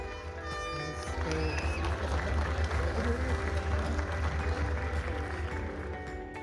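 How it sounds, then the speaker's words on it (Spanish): An audience at a formal public ceremony honoring a Supreme Court justice applauds in a sustained, dense wash of clapping with crowd noise and a low background rumble. "Recibamos con un fuerte aplauso"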